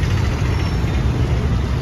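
A car's engine idles with a steady, low rumble that stays even and moderately loud throughout, with no voices over it.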